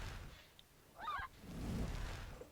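Chickens in a video game let out a brief, squawking cluck burst midway, moderately loud over a low rumbling game background with no voices.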